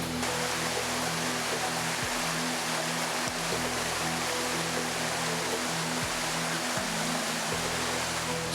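A rushing river in flood after flash flooding and landslides, a steady dense roar of water with a low engine-like hum underneath, constant and loud throughout.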